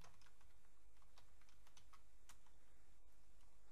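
Quiet, rapid keystrokes on a computer keyboard as a git clone command is typed, a steady patter of light clicks with a few sharper taps and no talking.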